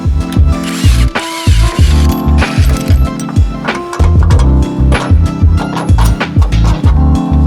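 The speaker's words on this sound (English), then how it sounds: "Next step is to remove your lower shock bolts and replace them with the supplied hardware." A hand ratchet clicks rapidly and loudly up close in repeated bursts with short pauses, loosening the lower shock bolts on a Can-Am Turbo R / Pro S side-by-side during a rear limit strap kit install.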